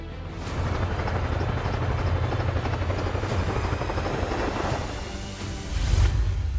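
An Apache attack helicopter flies by, its rotor wash making a steady, heavy whirring drone at moderate loudness with a few swooshing passes and a stronger thump near the end.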